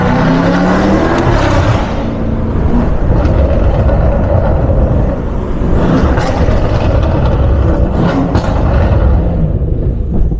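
A BMW M550i with its exhaust valve open and set to Sport Plus revs hard, a loud continuous V8 roar that surges and swells from very close, with no talk over it.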